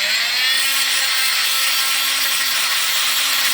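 Diamond-edged tool sanding down hard grout on a tiled floor, a continuous loud abrasive hiss and grind held steady throughout with a faint underlying hum, no talking.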